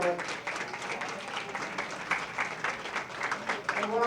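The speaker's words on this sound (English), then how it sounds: "Please, let's give them all a applause." Dinner guests at a Black History Month dinner at Holy Redeemer applaud steadily and moderately loud, with a voice or two heard through the clapping.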